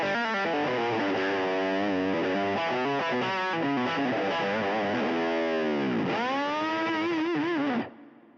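Music Man electric guitar through a Fulltone Plimsoul overdrive pedal playing a gritty, sustained phrase with bending notes, loud and alone, ending with a sudden cutoff.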